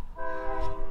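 Train passing behind a parked car, its horn sounding as a loud steady multi-tone blast over low rumbling rail noise.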